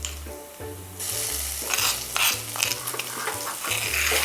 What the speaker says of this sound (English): Keep stir frying until it's really all fragrant.